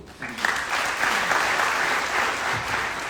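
An audience at a business training seminar breaks into steady, fairly loud applause that rises quickly and holds evenly, with faint voices in the background.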